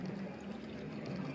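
Salt-water brine for fermenting vegetables is poured in a soft, steady liquid stream, quiet and close, with no talk.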